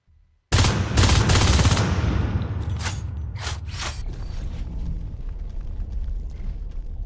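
Marines blasting shotguns in the sci-fi shooter Natural Selection 2, a sudden loud burst of rapid booming shots followed by a few more sharp blasts over a dense, rumbling battle din.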